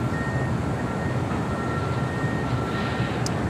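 EVA Air airliner at Los Angeles airport, a broad steady jet engine roar with a faint high whine running through it, constant and fairly loud with no talking.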